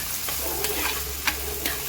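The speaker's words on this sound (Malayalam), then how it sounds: "സവാള ഒന്ന് വേഗം വഴണ്ട് വരാൻ വേണ്ടിയിട്ട്." Chopped onion with salt sautés in a pan for a Kerala-style stir fry, giving a steady close sizzle broken by a few sharp scrapes of a stirring spoon.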